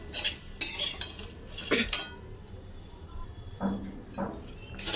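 Flattened rice (chira) dry-frying in a pan with salt and turmeric, stirred with a utensil that clinks and scrapes against the metal in short uneven bursts. The scraping is close and clear, and no one speaks.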